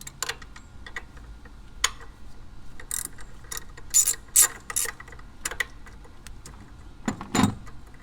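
Hand ratchet working a 10 mm bracket nut on a 2001 Ford F150 with a 4.6L engine, a run of sharp metallic clicks in uneven bursts, close and clear without talk.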